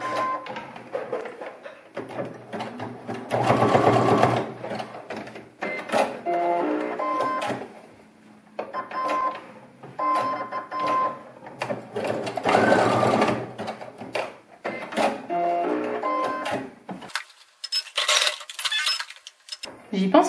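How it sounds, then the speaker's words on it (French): A sewing machine runs a zigzag stitch along a child's pleated fabric face mask, in repeated bursts of rapid mechanical stitching separated by short pauses and handling clicks, close and clear. "va donc faire maintenant un petit point zigzag qui va nous permettre de venir renforcer la couture"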